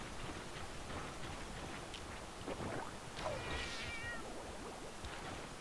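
A house cat gives a single thin meow midway through, faint and somewhat distant, over a steady background of soft ticking and hiss.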